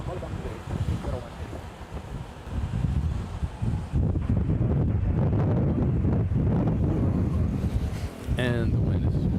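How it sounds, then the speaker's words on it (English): Strong wind buffets an outdoor microphone at Manila's NAIA airport, a steady loud roar and rumble that grows stronger partway through, with radio voices talking over it. "And the wind is really getting strong."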